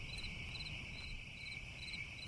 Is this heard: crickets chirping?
yes